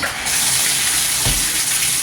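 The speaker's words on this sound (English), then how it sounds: "We can go ahead and turn it on and test out the shower pressure" Hotel bathtub shower turned on at full pressure, a steady loud broadband hiss of spraying water filling the clip after a brief quieter start, with a dull thump partway through.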